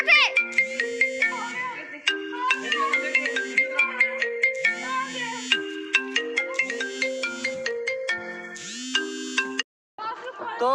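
A mobile phone plays a bright, melodic ringtone in repeating chimed phrases, loud and close, at a Holi gathering, with faint children's chatter in the background and a short silence near the end.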